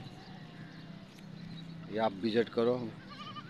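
Goats bleat at an open-air goat market held under the Karimabad gate, a couple of loud wavering calls close by over a steady crowd murmur, with someone talking nearby.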